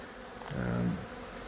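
A brief, close buzz of a honeybee droning past during an indoor beehive relocation, rising and fading within a second over faint background noise.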